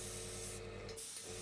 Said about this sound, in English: So we gently spray. Don't spray too much.